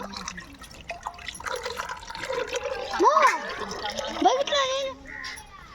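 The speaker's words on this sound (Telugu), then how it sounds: "నీళ్ళు వస్తున్నాయి దాంట్లో" Water runs steadily through a pipe in a home kitchen while fish is prepared for fried rice, a soft continuous rush that swells midway, with a voice speaking over it.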